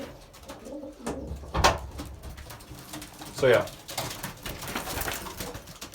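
Pigeons cooing inside a racing pigeon loft, a few soft throaty coos rising at intervals, close by, while someone talks over them.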